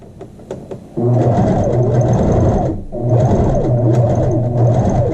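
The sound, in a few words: sewing machine stitching a back stitch on a shirt facing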